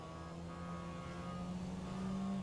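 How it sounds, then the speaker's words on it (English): A steady engine hum of an Emperor Habanero SUV in GTA 5 Online, with a whining, electric-like tone that rises slowly, sustained and fairly close, with no voices. "It sounds like it has an engine, but it sounds also very electric-y."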